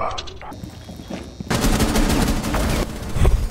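Automatic gunfire in a Rainbow Six match, quieter single shots first, then a dense sustained burst of rapid rounds filling the rest of the moment, loud and close.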